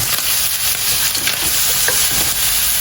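Garlic fries and is stirred in a pan, a loud continuous sizzle with soft scraping strokes from the spoon close up.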